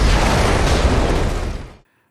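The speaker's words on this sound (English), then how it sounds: "you can replay that explosion a million times" A car bomb explodes in a Robocop film scene: one loud, dense blast roars for nearly two seconds, fading slightly before cutting off abruptly into silence.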